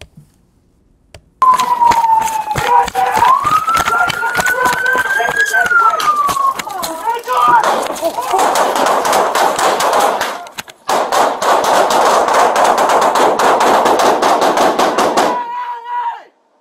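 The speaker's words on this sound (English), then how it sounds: "And here's Officer Dude Now, who does fire his weapon." Rapid gunfire from a police officer's weapon on bodycam footage, loud and dense bursts of shots over several seconds, with a siren-like wail rising and falling early on.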